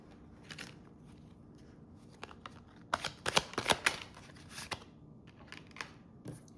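Tarot cards being shuffled up close, a quiet run of papery riffles and flicks that grows busier in the middle and then settles back into lighter shuffling.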